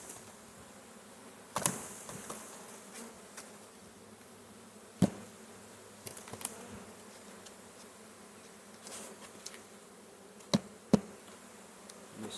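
Honey bees buzz steadily around hives at low volume, a soft continuous drone broken by a few scattered light knocks and taps.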